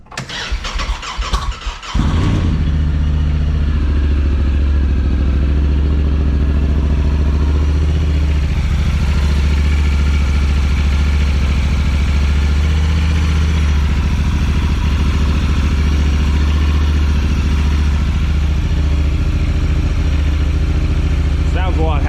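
A Volvo 240 engine with its valve cover removed cranks briefly, then catches and runs at a loud, steady idle with a persistent squeal and metallic clatter over its low rumble.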